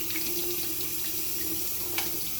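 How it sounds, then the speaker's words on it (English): Hot water pours steadily from a tap to flush a feeding tube, with a constant hiss and a faint tonal hum, plus one small clink near the end. "run some hot water through it"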